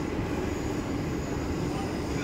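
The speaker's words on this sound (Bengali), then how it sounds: "মেট্রোটা খুব সুন্দরভাবে কার্ভ নিয়ে এগিয়ে যাচ্ছে" A Kolkata metro train runs toward the airport while rounding a curve, heard from inside the car as a steady, close rumble and rush of wheels on track with no pauses.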